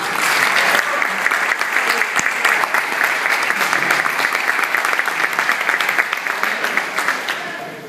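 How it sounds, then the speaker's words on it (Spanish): Sustained audience applause at the Open Security Congress, a security conference, dense clapping from a crowd filling the room at steady loudness, tapering slightly at the end with no one speaking over it. "Recibamos con un fuerte aplauso"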